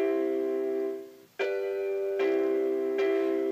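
Chord progression looping on an iPad chord app, steady sustained synth-like chords with three clear re-attacks after a brief dip, playing alone.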